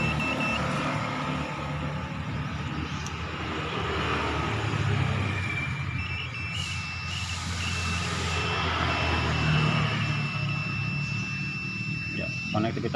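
A multimeter set to its continuity buzzer checks the wiring of a Shogun 125 FI motorcycle that has lost ignition. Thin, steady electronic tones sound for several seconds in the second half over background noise, with a voice talking.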